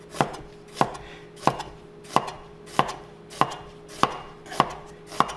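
A knife chops through vegetables on a cutting board for a stir-fry, eight crisp, evenly spaced thuds in a steady rhythm, close and clear with no talking.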